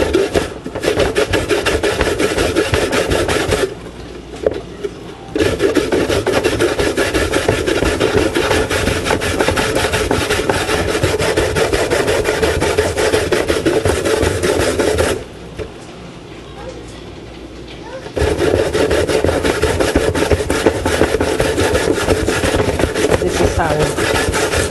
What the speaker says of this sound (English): and grate using a grater. After washing, you grate.